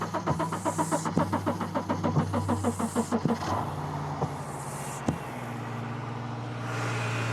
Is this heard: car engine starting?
yes